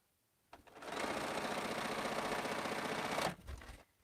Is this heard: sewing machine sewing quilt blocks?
yes